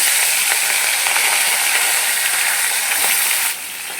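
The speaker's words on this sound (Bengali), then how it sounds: "আমি ওগুলোকে ভেজে নিচ্ছি" Fish head pieces sizzling in hot oil in a pan, a steady loud hiss with faint crackles throughout, easing slightly near the end.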